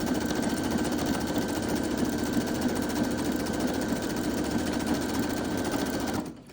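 A sewing machine runs steadily, stitching fabric for a scrunchie in a fast, even, whirring hum that holds for several seconds before stopping abruptly near the end.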